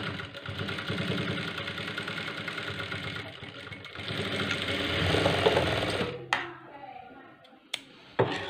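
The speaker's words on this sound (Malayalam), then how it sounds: "രണ്ട് സൈഡും ഡബിൾ സ്റ്റിച്ച് ചെയ്ത് എടുക്കുക." A sewing machine runs in a steady rapid whir while double-stitching the side seams of a two-colour blouse, then stops, followed by a few brief clicks and handling sounds.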